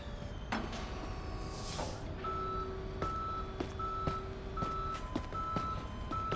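A tow truck backing up in Police Simulator: Patrol Officers, giving a steady series of evenly spaced reversing beeps over low engine and traffic noise, with a brief air hiss early on.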